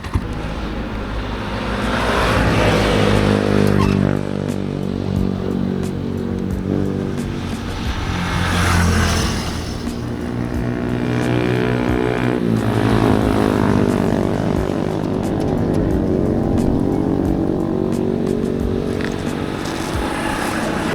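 A Mitsukoshi Euro Vperman 150 motorcycle engine runs loud and close, its revs rising and falling in a continuous drone, with a vibrating body panel prone to rattling at high RPM.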